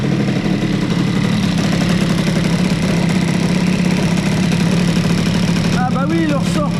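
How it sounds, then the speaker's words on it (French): A CPI 70 moped with a boosted Airsal cylinder idles while warming up, its Doppler exhaust giving a loud, steady buzzing chatter with a metallic rattle, close up, and a voice briefly speaks near the end. "le pot Doppler fait un bruit de ferraille pas possible"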